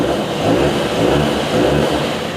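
An old motorcycle engine with an electric starter is revved in a few steady, rising blips at close range; the tone stays fairly smooth and continuous throughout, with no talking.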